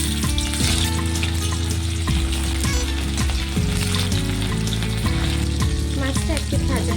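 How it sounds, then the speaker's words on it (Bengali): Bhetki fish pieces frying in hot oil in a heated kadai give a loud, steady, crackling sizzle that runs unbroken throughout, with a tonal musical backing underneath. "তেলটি গরম হয়ে গেছে, মাছটাকে ভেজে নেব।"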